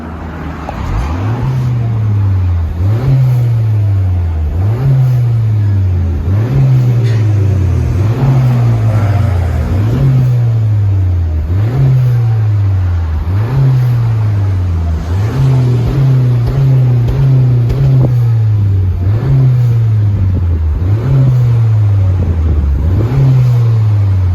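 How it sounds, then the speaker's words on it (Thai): A turbocharged Honda Civic FE engine revs over and over in a steady rhythm, each rev rising and falling, with a smooth, subdued note close by from a quiet JTC exhaust. "ติดตั้งท่อ JTC คันนี้ลูกค้าเลือกใช้ท่อ ไส้เงียบนะครับ เดี๋ยวเรามาฟังเสียงกันครับผม"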